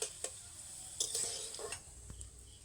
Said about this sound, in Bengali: ছোলার ডালটাকে হালকা লাল লাল করে ভেজে নেব এই কাজটা কিন্তু হালকা আঁচে করতে হবে